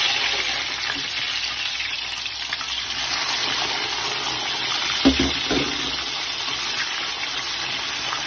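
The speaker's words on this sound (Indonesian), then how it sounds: "langkah selanjutnya kita akan goreng kentang dulu ya" Salted potato pieces frying in shallow hot oil, a steady broadband sizzle and crackle throughout, with a brief clatter of stirring near the middle and no voices.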